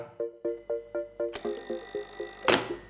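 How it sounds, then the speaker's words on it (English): A vintage rotary telephone rings through a homemade intercom circuit, its mechanical bell striking in a quick regular series of metallic dings, then a louder clattering burst near the end, close and with no talking. "if I pick up one of these phones, the other one should ring."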